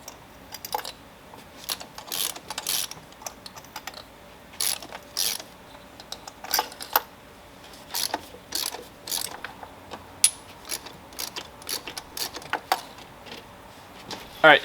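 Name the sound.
removing spark plugs from a BMW E46 engine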